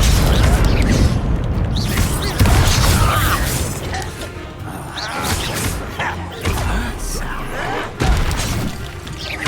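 A Confringo fire spell blasting in a Harry Potter video game, with loud booming bursts and mechanical clatter packed densely together, while a voice talks over the action.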